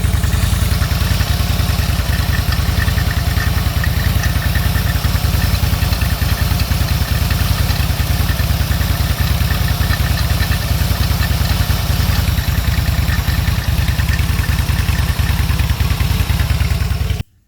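A motorcycle engine running at a steady idle after a fluid check, loud, close and continuous with a fast, even throbbing and mechanical clatter throughout, cutting off abruptly at the end.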